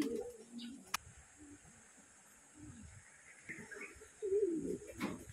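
Racing pigeons arriving home coo in soft low bursts near and far against a quiet background, with a sharp click and a faint steady high hiss also present.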